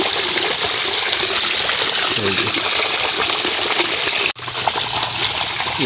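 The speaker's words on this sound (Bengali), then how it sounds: "পাইপ ফেটে যাওয়ার কারণে দেখুন এখান থেকে জল সব ঢুকে যাচ্ছে" Water gushing from a burst irrigation pipe in a papaya field, a loud, continuous rushing splash close by that briefly cuts out near the end and then resumes, with faint talk underneath.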